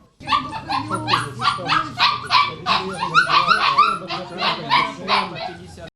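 Puppies at an animal shelter bark and whimper close by in a busy, overlapping chorus of high yips and yelps that continues the whole time.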